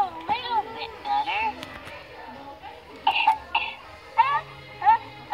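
A Baby Alive toy doll coughs several times, short electronic coughs and whimpers mixed with the doll's recorded child-like voice, while adults talk nearby.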